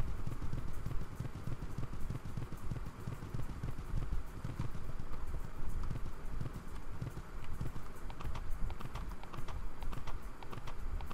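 Horse hooves clip-clop steadily in the Saddle Club – Willowbrook Stables video game, a continuous rapid clatter of footfalls running throughout at an even pace.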